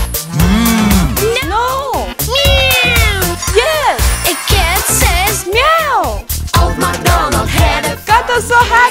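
Cartoonish cat meows in a children's nursery-rhyme setting, a quick run of loud, close, rising-and-falling mews repeating throughout alongside other bright vocal sounds.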